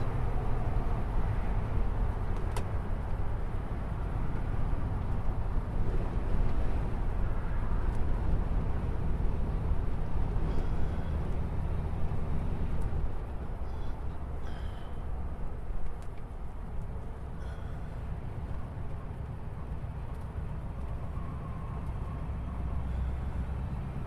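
A 1935 Ford Phaeton cruising down a freeway, its steady engine drone and road rumble holding close and even throughout with broadband wind noise, softening slightly in the latter half.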